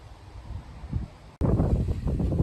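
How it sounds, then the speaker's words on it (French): Wind buffeting an outdoor microphone, a low rumbling roar that jumps sharply louder after a brief dropout and stays strong and gusty. "désolé si vous entendez du vent"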